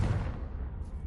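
A fire-blast spell cast in a wizarding action game, a low rumbling burst that fades quickly over about a second, fairly faint and heard alone.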